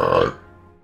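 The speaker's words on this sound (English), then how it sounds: "Oh god, I'm gonna burp." A single loud, close burp from a person lasts under a second, with a rough voiced rasp that cuts off quickly and leaves quiet background.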